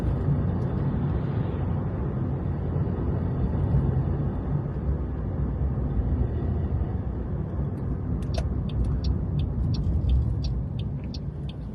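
A car drives along a road past a large park in Blackpool, a steady, loud interior road rumble and engine drone that continues throughout, with a brief patch of faint high clicks near the end.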